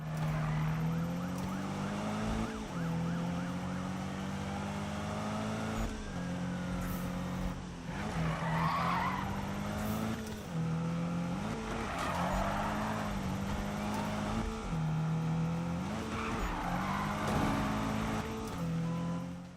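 A low-powered Subaru in the Need for Speed game drifts through corners, its engine droning and rising and falling in pitch as gears shift, with bursts of tyre-skid hiss during the slides.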